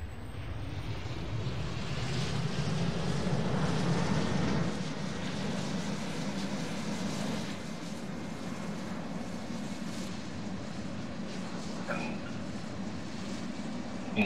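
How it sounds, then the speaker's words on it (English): Aircraft engines spool up in the Roblox flight game Aeronautica on a supersonic transport at an airport, giving a steady, loud droning roar that runs throughout with a slight swell early on. "And let us start the engines."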